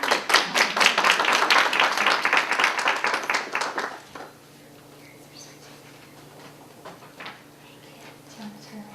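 Audience applause at a library poetry contest awards ceremony: dense, loud clapping for about four seconds that then drops away to a quiet room with a few scattered claps.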